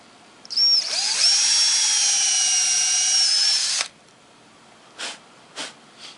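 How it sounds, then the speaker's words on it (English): A power drill whirs steadily for about three seconds, drilling a tap hole into a maple tree, then stops, followed by a few short scraping or blowing sounds. "Drill on an upward angle."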